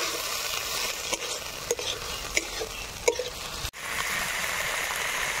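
Ginger-garlic paste and chopped tomato fry in a pan over village cooking, a loud steady sizzle with intermittent sharp pops and stirring clicks, briefly dipping in the middle before the frying hiss resumes.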